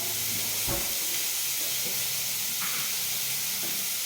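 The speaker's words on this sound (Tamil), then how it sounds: "கூட கூட ஒரு கொத்து கருவேப்பிலையை வந்து போட்டுக்கலாம்." Curry leaves sizzle in a hot pan of oil with other frying ingredients, a steady close hiss running throughout with a few soft pops and clatters.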